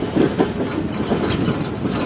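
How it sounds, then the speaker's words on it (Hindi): A train slowly pulls away from a station platform, giving a steady, close rumble with continuous wheel clatter and no voices. "आहिस्ता आहिस्ता प्लेटफॉर्म छोड़ रही है ट्रेन।"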